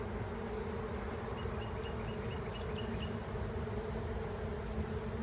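Honey bees buzzing around a comb at a hive, a steady dense hum of many insects close by with occasional higher individual buzzes passing through, no voices.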